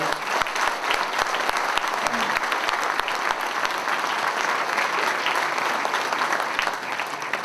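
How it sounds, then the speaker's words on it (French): An audience at a New Year's address applauds guests, with steady, dense clapping from a large crowd throughout, close and continuous without pause. "je vous demande encore une fois d'applaudir Madame Geneviève de Fontenay et Monsieur Stéphane Bern"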